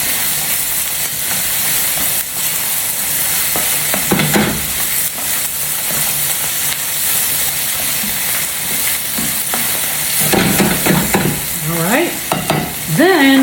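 A little bacon being stirred into food in a frying pan, with continuous sizzling and hissing under repeated scraping and stirring strokes, louder bursts of clatter near the end.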